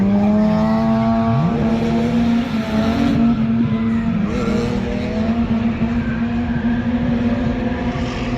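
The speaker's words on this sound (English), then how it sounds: "this little Miata. Look like it have almost no power. Now he just gotta shift the momentum just to get going." Mazda Miata race car on a track, engine loud and close with a steady drone, revs rising and falling through gear shifts, and faint tire squeal at times.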